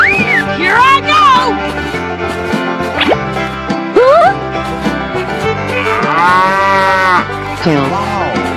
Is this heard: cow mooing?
yes